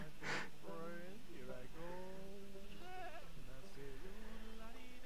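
Goats bleat repeatedly in a video game, wavering, nasal cries one after another, over a steady background hum.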